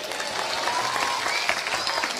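A crowd at an Islamic religious gathering for 1 Muharram in Pekalongan breaks into applause, a brief, moderately quiet patter of many hands clapping steadily with a faint murmur underneath.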